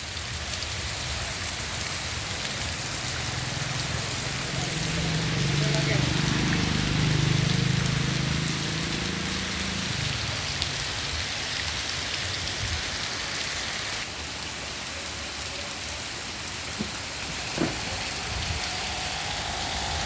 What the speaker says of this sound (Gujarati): જોરદાર વરસાદ ચાલુ